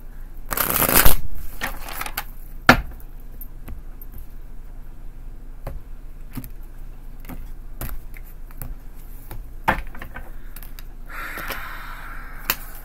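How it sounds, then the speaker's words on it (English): A deck of tarot cards is shuffled up close, a sharp riffling burst at the start followed by scattered light card snaps and taps, with a softer rustle near the end and no talking. "Two more shuffles."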